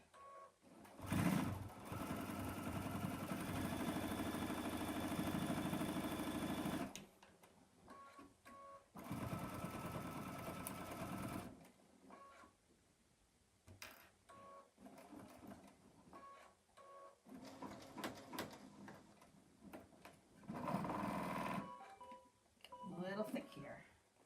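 A sewing machine stitches through several thick layers of suede, running in bursts of fast, steady buzzing that stop and start again, with a person speaking in the pauses between runs.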